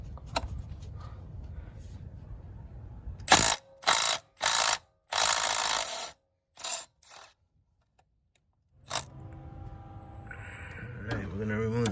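A hand ratchet clicks in quick bursts while turning a bolt in the cramped engine bay of a 2005 Nissan Sentra during an engine replacement, loud and close, with workshop background before and after.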